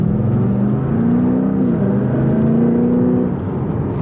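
A car driving steadily with a smooth whirring engine tone that rises slightly and then settles, loud and close from inside, with no talking.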